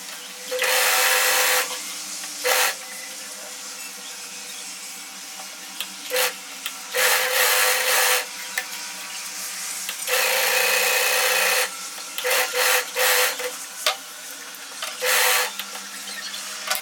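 A sewing machine double-stitching a kurta shoulder seam, running in loud bursts of steady whirring with short pauses between runs, close and alone.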